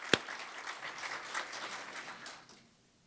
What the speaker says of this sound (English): let's give a huge round of applause to all the nominees